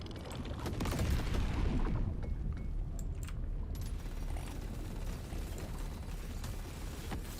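A minigun in the video game Deep Rock Galactic: Survivor sprays bullets in a continuous, dense mechanical rattle, with a louder burst at first that then settles into a steady, even stream and no voices.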